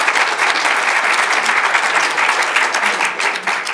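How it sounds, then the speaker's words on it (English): A large audience at a civil rights summit applauds steadily, a dense, loud wash of clapping sustained for several seconds without a break. "Thank you for the applause."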